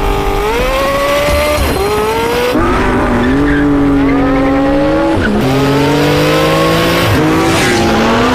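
A Porsche 918 Spider hybrid supercar with a 4.6-liter V8 accelerates hard, its loud engine note climbing and dropping through repeated gear changes while tires squeal and skid.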